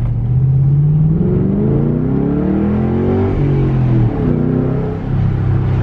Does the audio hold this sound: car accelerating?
yes